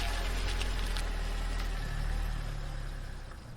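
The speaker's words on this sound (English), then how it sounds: "Motorbike noises." A motorbike engine in the visual novel First Snow idles with a steady low rumble and vibration, close and continuous, then slowly fades toward the end.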